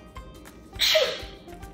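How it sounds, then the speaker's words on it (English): A single person sneezes once, a short sharp burst that rises quickly and fades, with quiet room tone before and after. "Me sneezing."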